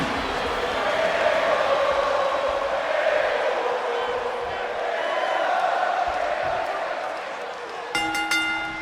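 An arena crowd in the WWE 2K26 wrestling video game roars in a steady, dense wash of cheering throughout, ending with a sharp tonal game sound effect.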